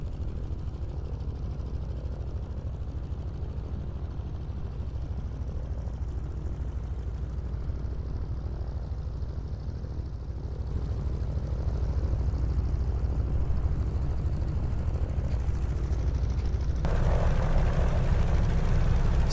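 Twin engines of a Beechcraft Model 18 taxiing in Microsoft Flight Simulator, a steady low rumbling drone that grows slightly louder partway through and brightens near the end.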